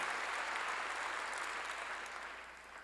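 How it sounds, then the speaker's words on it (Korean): A church congregation claps together in applause for God's glory, a dense, even wash of many hands that stays loud and then tapers off slightly at the end. "박수로 하나님께 영광을 돌려야 합니다"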